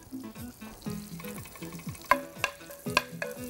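Mace and cardamom sizzle in hot butter as the base for butter chicken, a soft crackling hiss under steady tonal background sound, with a few sharp utensil clinks and taps toward the end.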